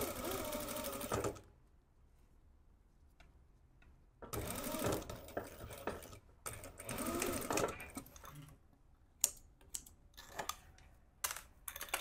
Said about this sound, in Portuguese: Agora aqui, eu só vou seguir em cima da minha costura. Vou fazer outra costura em cima dessa costura.